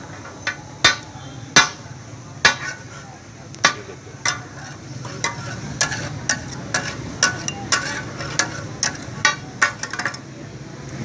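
Small chicken pieces cooking on a tawa, with a metal spatula striking the hot iron in repeated sharp clinks, irregular at first and then quicker and rhythmic, over a soft background sizzle.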